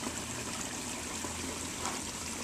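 Steady rushing splash of a garden pond waterfall, a continuous broadband wash of falling water heard close up with no voices.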